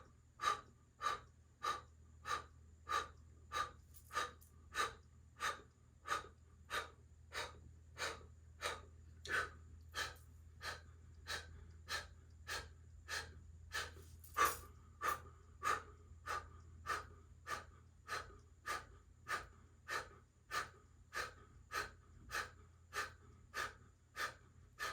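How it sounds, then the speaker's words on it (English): Controlled yoga breathing during a guided practice, with steady rhythmic inhales and exhales repeating evenly about once a second, close and clear with no talking. "start with the breathing."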